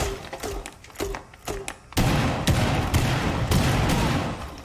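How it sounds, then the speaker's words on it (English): Cluster charge pucks from the operator Fuze in Rainbow Six Siege detonate one after another, a run of sharp loud blasts and thuds with a dense continuous rumble of explosions in the second half. "As you can see, I took about 72 damage, and I was about 5 meters away whenever that explosion first dropped down."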